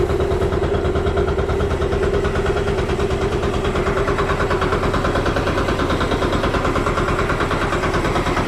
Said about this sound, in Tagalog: Ito ang engine room.